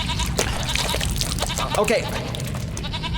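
Many goats bleat in a dense, overlapping chorus from a large herd of about a thousand animals, with someone speaking over the noise.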